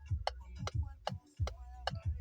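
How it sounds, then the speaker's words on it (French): Hazard warning lights ticking inside a grey platinum Peugeot 2008 Allure, a steady close clicking rhythm of about two ticks per second running alone. "Hop. Feu de détresse."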